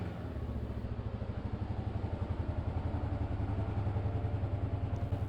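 A Kawasaki KLR 650 motorcycle on a short ride gives a steady, pulsing single-cylinder thump that stays close and even throughout.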